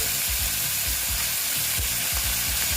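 Small fish frying in hot oil, a loud dense crackling sizzle that stays constant throughout, with faint low rhythmic thumps beneath it.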